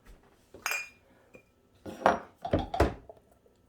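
A glass jar is handled while Irish moss gel is transferred into it, with a few close clinks and knocks of glass spaced out over a quiet background and no talk.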